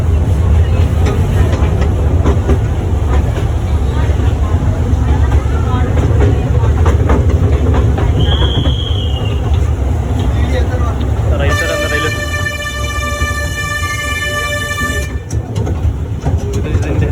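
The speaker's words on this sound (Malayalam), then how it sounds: "Mysore railway station." Train at Mysore railway station, a steady loud rumble with platform noise and voices throughout, a brief horn-like tone, then a long sustained whistling horn blast near the end.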